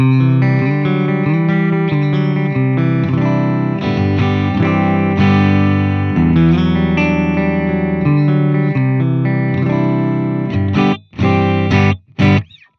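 Electric guitar played through a gained-up Fender amp and cabinet simulation in Fender Studio Pro 8, with sustained distorted chords and riffs, loud and continuous, ending in a few choppy stabs with short gaps.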